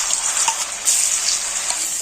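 Ground turmeric root fries in melted ghee, giving a steady close sizzle with faint stirring scrapes and no voices.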